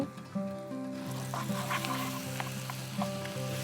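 Soaked, chopped dates are stirred in a pan on the stove under a steady low sizzle, with soft scrapes and clicks from the utensil over a droning background hum.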